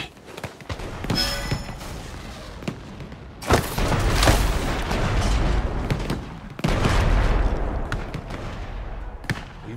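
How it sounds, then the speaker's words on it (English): Repeated loud booms and blasts of cannon fire in the game Shadow Tactics: Blades of the Shogun, spaced irregularly with brief lulls, some heavy and sustained, others sharp and short. "Watch for cannon fire."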